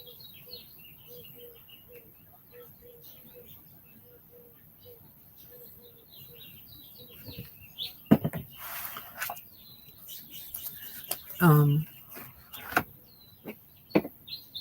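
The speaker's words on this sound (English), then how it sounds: "there's so many birds" Many birds chirp outdoors near a tiny house, a rapid run of small repeated tweets that are fairly faint. Later, louder knocks and clatters break in among the calls.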